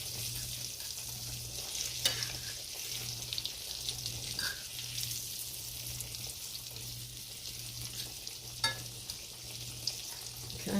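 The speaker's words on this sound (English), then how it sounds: "And we're cooking these in vegetable oil." Green tomato slices fry in vegetable oil in a pan, a steady, fairly quiet sizzle that runs throughout, broken by a few faint clinks and scrapes.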